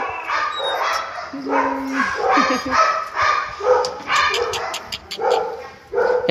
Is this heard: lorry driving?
no